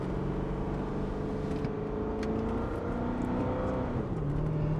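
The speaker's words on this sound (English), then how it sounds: "And with the valves open, you get a really nice, throaty, aggressive sound." A C6 Corvette with universal valved mufflers held open rumbles from inside the cabin with the windows closed, a deep steady exhaust drone with slowly shifting pitch as the engine revs.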